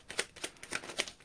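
Tarot cards being shuffled, a quiet sequence of about five soft riffling bursts in uneven rhythm, close and faint, with no voices over them.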